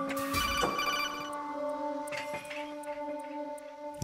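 A telephone rings in the video game Metal Gear Solid 2, sounding as loud repeated electronic ring tones that hold steady for several seconds, close and clear, with no talk.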